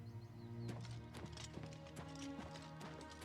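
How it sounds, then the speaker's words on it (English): Horse hooves clip-clop in an uneven rhythm over steady game music in The Elder Scrolls IV: Oblivion Remastered as horses fight crabs, with occasional thumps and a brief whinny, all fairly quiet. "These horses are like fighting these crabs"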